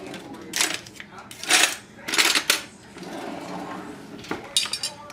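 A knife and fork cut open veal parmigiana on a plate, producing several bright metallic clinks and scrapes in short bursts spaced about a second apart, fairly close and clear.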